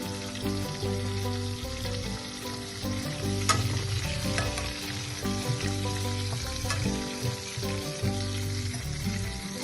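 Garlic cloves and onion frying together in a pan for a Bengali bharta, with a steady crackling sizzle throughout, stirring scrapes and a tonal hum beneath, one sharper clink near the middle.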